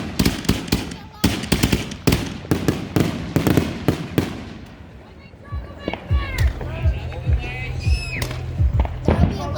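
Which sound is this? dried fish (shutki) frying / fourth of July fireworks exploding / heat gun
fourth of July fireworks exploding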